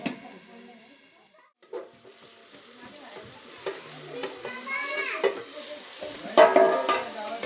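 Onion frying in a pan, sizzling steadily while being stirred with scraping, clattering strokes that grow busier and louder toward the end, heard up close with no talking.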